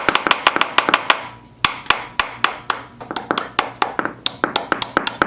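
A metal key is hammered into the keyway of a pulley on an old Yazoo mower, giving a long series of sharp, ringing metallic taps, loud and close, in irregular bursts with brief pauses.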